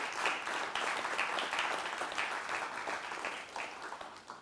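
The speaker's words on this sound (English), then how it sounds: "Can we please clap for Hansal sir?" An audience at a directors' panel event applauding for a director, a continuous moderately distant crowd applause sustained throughout, softening slightly toward the end.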